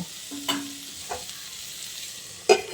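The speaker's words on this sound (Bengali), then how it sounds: "নেড়ে চেড়ে মিশিয়ে দিতে হবে, তাহলে রান্নাটা খুব সুন্দর হবে।" A potato and yardlong bean stir-fry is stirred in a pan on low heat, giving a few soft scraping strokes over a faint steady sizzle, with a sharper clink near the end and no talking.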